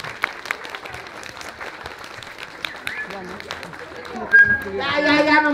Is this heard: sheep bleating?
no